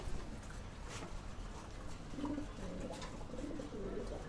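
Pigeons coo inside a loft, low soft calls rising over a steady background murmur in the latter half, close by and moderately loud, with no talk.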